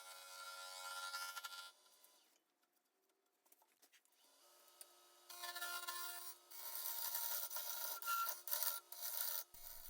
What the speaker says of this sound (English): That's my Easy Wood Tools negative rake circular carbide cutter.